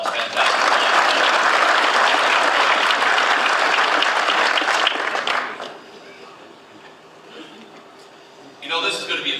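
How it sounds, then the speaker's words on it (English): Conference audience applauding at the ROMA/OGRA 2014 provincial leaders' speeches, loud dense clapping for about five seconds that fades to quiet room noise, then a voice starts speaking near the end. "Let's give them a round of applause."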